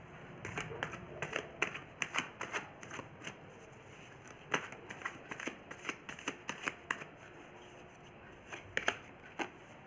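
Tarot cards are shuffled and drawn by hand in a quiet room: a run of crisp riffling snaps and papery slaps come in irregular bursts throughout, close and fairly soft.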